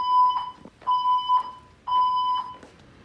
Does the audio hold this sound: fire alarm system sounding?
yes